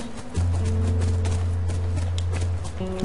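Horse hooves clop in a quick, steady rhythm close by in The Last of Us Part II, with a sustained low musical drone underneath through most of the stretch.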